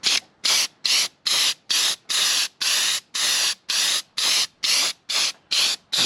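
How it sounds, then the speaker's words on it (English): Repeated bursts from a small critter spray gun pushing water-based sanding sealer at high pressure onto a dog bone sign, about a dozen evenly spaced hissing sprays, close and loud, each cut by short silences. "I got my little critter spray gun here with some water-based sanding sealer."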